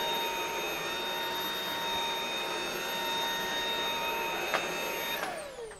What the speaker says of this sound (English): to show them the competition vacuum